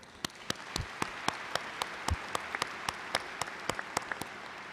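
Sparse, distinct claps ring out at a commencement ceremony for officials. A few people clap in a loose, fairly regular rhythm with sharp individual hits rather than a full crowd roar.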